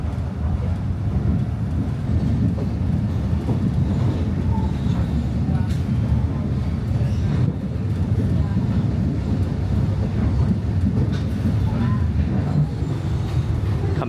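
Sabah State Railway train rolling along meter gauge tracks, a steady low rumble with faint rattles that holds at the same level throughout, with no talk over it.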